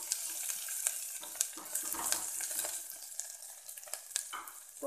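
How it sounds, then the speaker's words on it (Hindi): Potatoes and green fava beans sautéing with green chillies over medium-high heat, a soft sizzle punctuated by repeated clinks and scrapes of stirring, no talk. "1/2 मिनट तक इसको सौते होने देती हैं। इसके साथ ये हरी मिर्च भी ऐड कर लें और इसके साथ मिक्स कर लें।"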